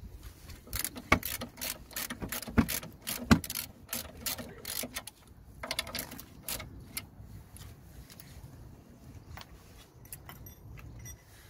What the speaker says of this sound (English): Just gonna loosen the top anti-roll bar linkage mount